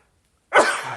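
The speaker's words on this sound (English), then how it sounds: "I'm going to sneeze here, so give me a second." A single sudden sneeze bursts out after half a second of silence, loud and close, with a breathy tail, during a talk about jiu-jitsu and trading in allergy season.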